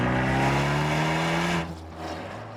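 Abarth 124 sports car with its Record Monza exhaust system, engine droning loudly and steadily up close, then the note drops away abruptly near the end into a quieter, rougher burble.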